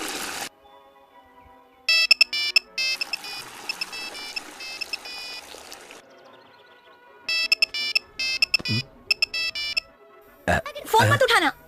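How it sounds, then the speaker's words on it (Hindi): A mobile phone plays a melodic ringtone in repeated loud bursts during a Hindi film scene, with brief pauses between rings and other sounds and voices nearby. "फोन मत उठाना।"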